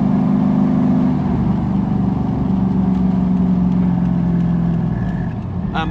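A Toyota Hilux Surf on 20-inch wheels with wide 275 tyres, running a 3UZ V8 on a 2WD Hilux chassis, drives along with a loud steady engine drone that eases off toward the end.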